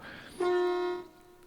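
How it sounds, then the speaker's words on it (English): A locomotive horn in the VR train game Derail Valley gives one steady, loud, clear tone lasting about half a second, then cuts off, with quiet cab ambience before and after. "Obviously have to honk, that is very important."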